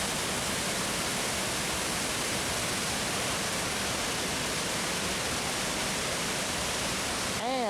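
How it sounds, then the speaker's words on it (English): A waterfall in Brevard, Transylvania County, North Carolina, a steady broadband roar of rushing water that stays constant and fairly close throughout, with a brief disturbance right at the end. "A waterfall, that is something you need to hear."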